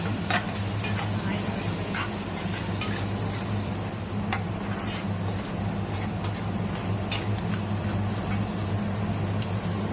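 Onions, mustard seeds, cumin, green chilies and curry leaves sizzle steadily in hot oil in a pan, a close, continuous frying hiss with occasional pops and stirring clicks and no talking.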